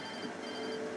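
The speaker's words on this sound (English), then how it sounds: "My phone is ringing." A phone rings in the Alan Wake video game, a brief, steady electronic tone held over a muffled background.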